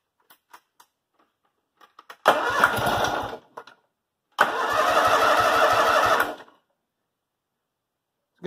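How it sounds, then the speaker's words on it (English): Kohler M18 engine on a Cub Cadet 1882 garden tractor cranks in two separate attempts, each a steady rhythmic starter chug lasting a second or two, heard up close in an otherwise quiet setting with faint clicks before. "So let's crank it and see what we get."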